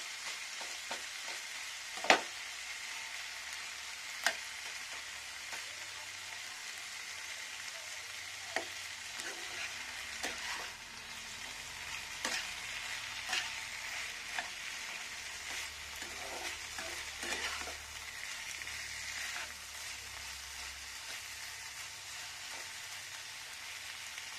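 Tomato frying in a pan of oil while cooking a fish curry, a soft continuous sizzle with occasional sharp pops and stirring ticks, quiet and close with no talk.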